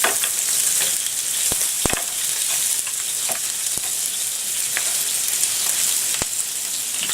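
Mussels and other fresh seafood with white wine sizzle in a hot pan, a dense, close frying hiss scattered with sharp pops and crackles, no voices.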